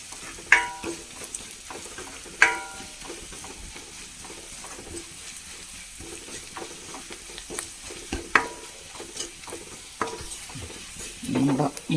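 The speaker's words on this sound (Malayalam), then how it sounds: "നമ്മുടെ മുളകും ഉള്ളിയൊക്കെ നന്നായി മൂത്ത് വന്നിട്ടുണ്ട്" Chilli and onion fry in a pan under repeated stirring, with sharp scraping knocks of the spoon against the pan at irregular intervals over a soft continuous sizzle, close, with no talk.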